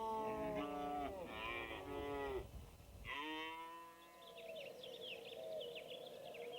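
Cattle lowing at a vaquero roundup in Sonora, several long, loud moos close by, one after another with brief gaps, with faint bird chirps in the background.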